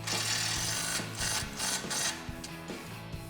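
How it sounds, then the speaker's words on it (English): A 14mm socket wrench ratchets a flange nut tight during a Rough Country 3.5-inch lift kit install on a two-door Jeep Wrangler JK, giving several rapid clicking bursts, up close and fairly loud, with a low steady hum beneath. "we'll take that same 14mm socket and wrench and we'll tighten that down"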